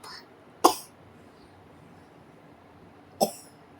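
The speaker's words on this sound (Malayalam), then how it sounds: "ചുമക്കുന്നുണ്ടോടാ?" A young child gives two short, sharp coughs a few seconds apart, close by, with a quiet room in between.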